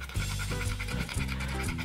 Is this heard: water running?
no